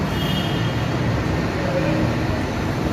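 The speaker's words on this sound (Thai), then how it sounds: "waiting for sky train" Bangkok's BTS Skytrain rumbles steadily at a station platform, a loud, continuous low roar mixed with general traffic and station noise throughout.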